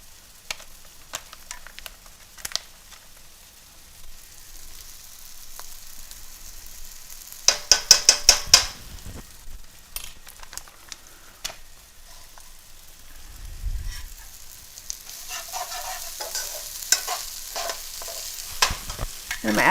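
Vegetables and garlic frying in a pan for Mexican rice, a low steady sizzle broken by sharp clicks and clatters of stirring, with a louder burst of scraping midway and a brief low rumble near the end.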